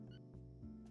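A pet cat named Dolly makes short noises on a desk: a brief, faint, tonal chirp or trill with a couple of small rising squeaks in under a second.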